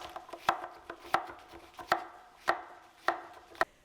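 A knife chops cucumbers on a cutting board, crisp sharp thuds at a steady, unhurried pace with softer taps in between, close and clear, with no talk.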